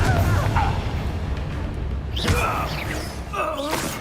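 Confringo spell explosions in the Hogwarts Legacy video game, heavy rumbling booms and thuds under combat effects and character shouts.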